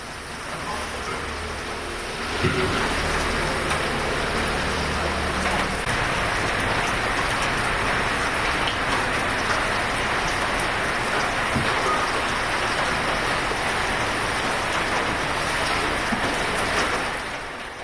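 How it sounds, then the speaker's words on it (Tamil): Steady rain falling intermittently since early morning in Tiruvarur district, a dense continuous hiss of drops hitting surfaces that swells louder after a couple of seconds and stays even, with no voices. "திருவாரூர் மாவட்டத்தில் அதிகாலை முதல் விட்டு விட்டு மழை பெய்து வருகிறது"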